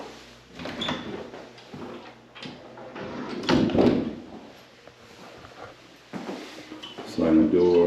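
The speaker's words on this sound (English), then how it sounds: "Sliding door" A sliding door on a full-time RV slides and thumps shut amid people talking, the door noise mixed in with the voices and room sounds.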